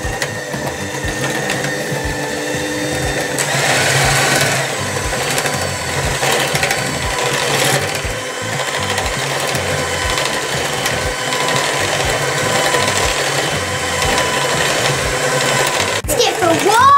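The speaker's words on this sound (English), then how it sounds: "We're gonna use our electric hand mixer now." An electric hand mixer whirs steadily while it mixes cake batter for a birthday cake, with a constant high motor hum that runs under people talking, and a clatter near the end.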